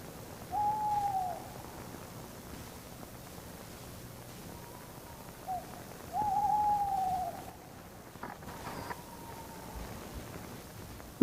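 Tawny owl hooting at night in Wrighton Wood near Oxford in April, a female that has left her clutch of two eggs: two clear drawn-out hoots with a fainter call between and after, over quiet background hiss.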